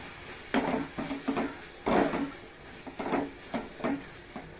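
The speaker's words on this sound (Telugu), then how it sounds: "దీన్ని ఒకసారి బాగా కలుపుకోవాలి" A spoon scrapes and clinks against a pan while egg and chicken curry is stirred, a series of short, moderately quiet strokes in an uneven rhythm.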